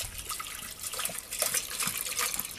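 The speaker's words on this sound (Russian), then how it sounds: "Опять же, снова наливаем электролит." Electrolyte solution pours steadily into a container during home gold recovery, a close, bright splashing trickle that runs for a few seconds.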